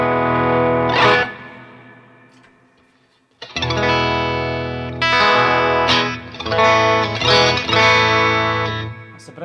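Harley Benton ST-62 DLX S-type electric guitar in vintage white, played through the bridge pickup with distortion and effects, loud chords and riffs with pauses and a short silent gap before strumming resumes.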